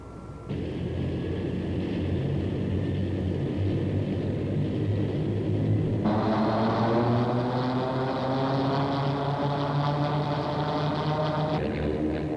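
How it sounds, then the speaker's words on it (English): The turbine engine of a Lockheed AH-56A Cheyenne helicopter spools up with a steady rising whine and broad roar, growing louder and higher in pitch as it winds up, loud and close. "With the crew on board, the engine is started."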